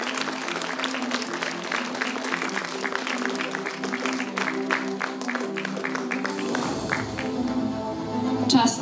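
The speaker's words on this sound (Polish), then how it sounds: "Drodzy Państwo, niech brawa nie ustają oczywiście." Audience applause at the Miss Warsaw 2022 beauty pageant, steady clapping from a crowd running throughout, with music or tonal sound underneath and a brighter swell near the end.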